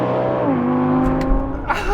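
Audi R8 V8 engine accelerating hard in a drag race, a loud sustained roar climbing in pitch, then a brief dip at a gear change before rising again, close and continuous.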